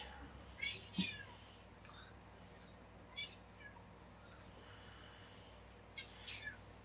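Several short, faint meows come from a cat close by, scattered across the stretch with quiet pauses between them.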